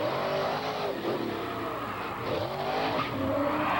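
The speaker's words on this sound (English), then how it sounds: "And Bigfoot's Ford power plant is up to the challenge." The Ford engine of the Bigfoot monster truck roars loudly and steadily at a 1992 monster truck racing event in Curacao, revving and surging, with some tire noise mixed in.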